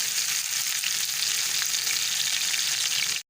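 Spring onion and green chili fry in hot oil for baingan bharta, giving a loud, dense, continuous sizzle close by that cuts off abruptly at the end, with no voices.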